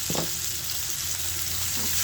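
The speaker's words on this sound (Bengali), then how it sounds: "এই তেলের মধ্যে রসুন আর পেঁয়াজ কুচিগুলো একটু হালকা নরম করে নেব" Garlic and chopped onion soften in oil left over from frying silver carp, a continuous close sizzle with a brief stir clatter near the start, no voices.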